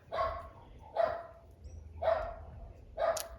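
A neighbour's dog barks four times at roughly one-second intervals, each bark sharp and moderately distant, with quiet background between them.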